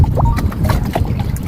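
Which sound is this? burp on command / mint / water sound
water sound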